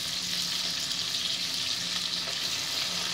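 Drumstick (moringa) sabji sizzles and fries steadily in a pan while being stirred, giving a continuous close hiss and crackle with faint scraping, without pauses.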